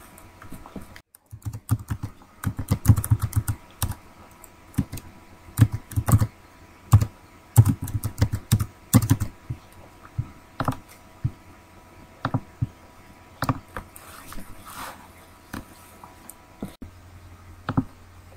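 Keystrokes on a computer keyboard as an activation code is entered, a close, steady run of clicking taps in irregular bursts with short pauses, heard alone without talk.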